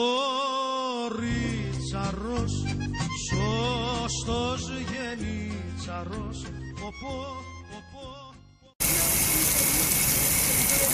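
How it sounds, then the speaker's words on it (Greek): Music plays and then cuts out abruptly, giving way to a loud, steady rush of water gushing from a public fountain for the final couple of seconds. "Παντού τρεχούμενα νερά."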